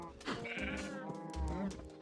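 Sheep bleating in the video game Minecraft, a short wavering bleat close by that fills about two seconds against a steady background.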